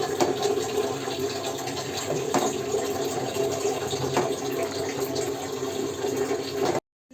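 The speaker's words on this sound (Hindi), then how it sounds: "4 गिलास पानी ऐड कर दूंगी।" Steady rushing of water pouring continuously into a cooking pot of nihari for several seconds, fairly close, then cutting off abruptly near the end.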